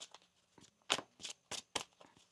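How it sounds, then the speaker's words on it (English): Tarot cards being shuffled by hand, heard as a quiet series of soft, papery riffling bursts in an uneven rhythm, close by and with no talking. "One more shuffle here."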